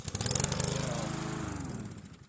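Repeated quick pulls on the starter rope of an old lawn mower, a close, rhythmic ratcheting rasp with the engine sputtering but not catching, loud and steady for a couple of seconds with no talk.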